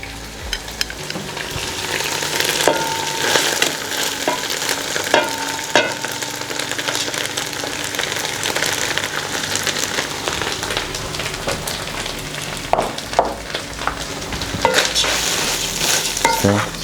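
Rice is stirred and fried in a pan, producing a steady crackling sizzle broken by repeated scraping spatula strokes and clinks over about seventeen seconds, with no voice.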